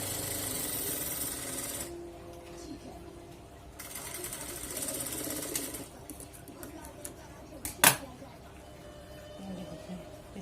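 A sewing machine stitches a Rajputi kanchali blouse in two loud running bursts separated by pauses, followed by softer handling noises and a sharp knock near the end.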